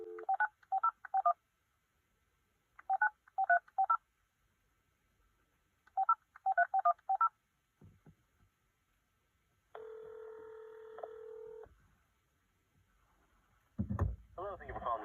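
A house phone dials a tire shop, sending three quick bursts of clear touch-tone beeps in a quiet room, then a steady ringback tone and a brief bump of handling.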